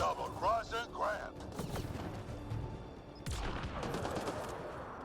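Gunfire in the video game Mass Effect Andromeda, a volley of sharp shots and a loud burst partway through, mixed with other game sounds and voices talking over the action.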